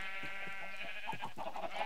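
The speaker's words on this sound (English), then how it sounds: "We just portaled a load of sheep in, and it seems they've eaten all the grass." Many sheep bleat in Minecraft, their overlapping calls repeating under a steady background tone at moderate volume.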